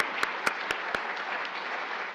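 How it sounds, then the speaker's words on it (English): Audience applause for a health lecturer at a dementia talk, a steady wash of clapping from a seated crowd, with a few sharp claps near the start standing out above it. "Let's give Dr. Gina Fukami a great round of applause"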